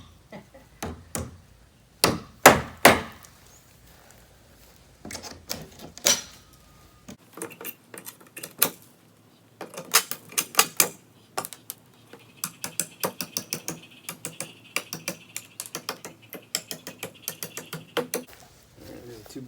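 Screws are worked out of used lumber salvaged from an old porch, with bursts of sharp ratcheting clicks and knocks, some loud and close, scattered across the stretch with pauses between.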